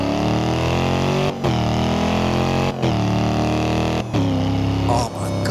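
Mercedes SLS with its 6.2 litre V8, driven in Forza Horizon 2, roars loudly and continuously, its pitch climbing under acceleration and dipping sharply at three brief gear-change gaps, alone without talk.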